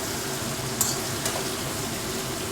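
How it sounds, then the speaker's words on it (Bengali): Potatoes frying in oil in a pan give a steady, dense close sizzle with a single light clink of a utensil, no voices. "আলুগুলো লাল লাল করে ভাজা হয়ে গেছে"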